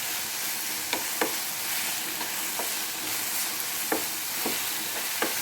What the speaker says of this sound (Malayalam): ഇഞ്ചിയും വെളുത്തുള്ളിയും ഒന്ന് വഴന്ന് വരുന്നത് വരെ നമുക്കിത് വഴറ്റി കൊടുക്കണം നന്നായിട്ടൊന്ന് ഇളക്കി കൊടുക്കാം